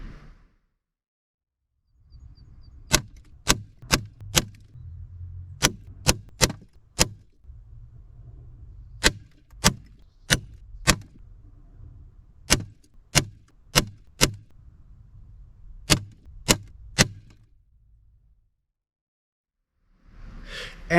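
FX Impact M3 air rifle with a choked Lothar Walther barrel firing heavy slugs in machine gun mode: sharp reports in quick bursts of three or four, repeated across several strings, loud and close, with a low mechanical hum under them.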